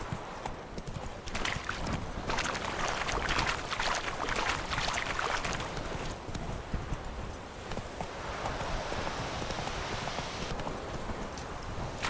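Roach the horse in The Witcher 3 gallops with rapid, rhythmic hoofbeats, a continuous clip-clop at close range that carries on steadily with a brief lull midway.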